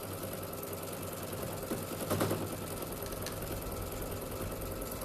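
A sewing machine stitches down quilt fabric, a continuous fast mechanical whirring and ticking hum that runs evenly throughout, heard close and fairly quiet with no talk.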